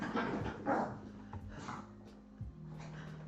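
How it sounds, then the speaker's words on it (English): Dogs run around a home, giving faint, distant barks, yips and whimpers in the background with scuffling noise, partly under low room sound. "Do you guys hear these dogs? They're running around like crazy people."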